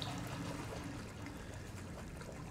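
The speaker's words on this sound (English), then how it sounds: "Is that water dropping there, or?" Water trickles and drips somewhere in a dark Resident Evil 7 game scene, a steady, soft wash of liquid noise that runs unbroken with no voices over it.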